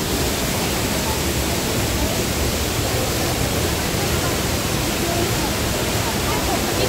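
Sapadere Canyon waterfall in Turkey roars with dense, steady rushing water, a loud broadband wash that stays constant throughout with no pauses.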